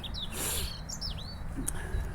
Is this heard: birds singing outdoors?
yes